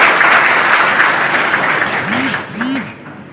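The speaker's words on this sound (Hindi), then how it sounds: "तालियों की गड़गड़ाहट से स्वागत करें।" Loud crowd applause greets Haryana's deputy chief minister at a political election rally in Rajasthan. The dense clapping thins out near the end while a rising and falling whistle-like tone sounds twice.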